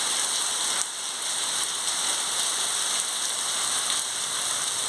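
Heavy rain pours steadily onto a backyard in northeastern Brazil, a dense, even hiss that stays loud throughout, with no talking.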